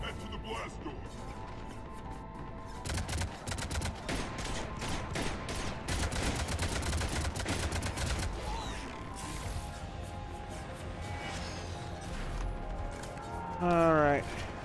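Cannons firing in Mass Effect 3 give rapid bursts of heavy booming shots and crashing impacts that build through the middle, with game sounds and speech mixed in.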